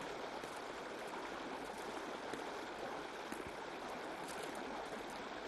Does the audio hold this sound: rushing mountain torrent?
yes